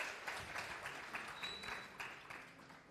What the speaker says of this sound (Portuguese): Palmas para o nosso amigo, gente.